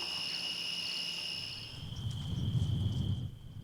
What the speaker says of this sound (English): the perfect evening entertainment is just to chill out on the porch and listen to the crickets